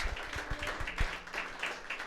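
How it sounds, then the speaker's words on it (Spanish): Applause from a church congregation during a worship service, rhythmic claps with some deeper thumps, moderately loud and steady throughout. "Y dale un aplauso fuerte a nuestro Dios"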